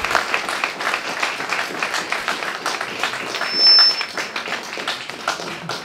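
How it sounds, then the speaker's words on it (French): An audience at a talk in an architects' union hall claps for the speaker, producing a dense, continuous, loud patter of many hands that holds steadily throughout, with a brief thin tone rising near the middle. "on va remercier et applaudir cette Corinne"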